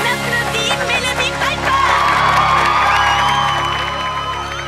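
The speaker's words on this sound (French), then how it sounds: "On applaudit Mélodie" An animated audience cheers, whoops and claps for Mélodie, a loud, close crowd roar that swells and holds steady, with shouting voices mixed in.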